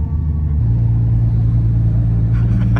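A Nissan R34 GTR drives along a snowy street in Finland, its engine a loud, close, steady rumble that pulls on without a break for the whole stretch.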